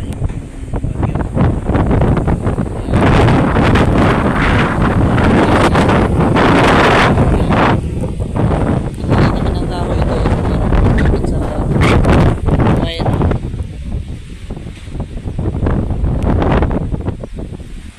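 Strong typhoon wind battering a farm, loud roaring gusts buffeting the microphone in surges and lulls, with rustling debris and occasional voices underneath.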